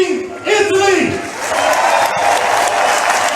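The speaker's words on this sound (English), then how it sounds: "As the crowd applauds" A crowd at a European Championship baseball final between the Netherlands and Italy applauds and cheers steadily and loudly, with an announcer's voice over the start of it.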